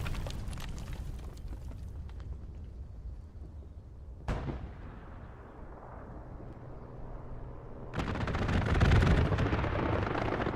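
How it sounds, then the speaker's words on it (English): A satchel charge explodes in the video game Hell Let Loose, with a sharp loud blast midway and a heavy rumbling burst later amid ongoing gunfire and battlefield din, with no talk. "Big explosion from the satchel goes off."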